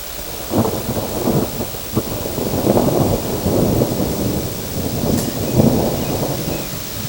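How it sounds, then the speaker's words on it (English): Thunder rumbles repeatedly under steady falling rain outdoors, deep rolling bursts every second or two over a constant patter, moderately close, with no speech. "Here comes the thunder and the rain."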